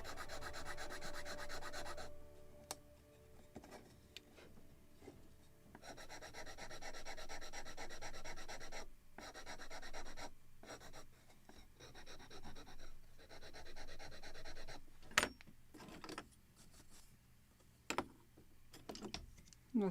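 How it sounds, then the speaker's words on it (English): Sanding a small wooden model part, a cleat for the yards of a 1776 gunboat Philadelphia, with steady close rubbing strokes broken by brief pauses and a few sharp taps near the end. "a little more to sand."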